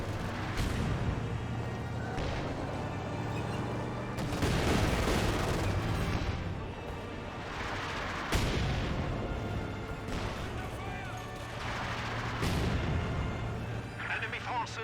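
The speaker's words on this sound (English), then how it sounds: "Scott getting a barrage on the Grenadiers" An artillery barrage in Company of Heroes 2 lands in the game as a string of heavy booming impacts every few seconds over a constant battle rumble, with a caster talking over it throughout.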